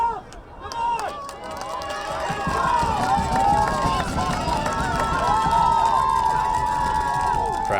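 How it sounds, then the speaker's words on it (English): Crowd at a high school boys soccer game, a steady roar of voices and cheering throughout, mid-distance and fairly loud, with a commentator talking over it. "Crowd trying to get both sides into this game."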